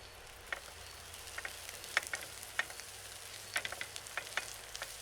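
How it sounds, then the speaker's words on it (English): Onions fry in a pan with a quiet, steady sizzle, broken by scattered small crackles and pops, close and fairly faint, with no voices. "We fry the onions for a couple of minutes"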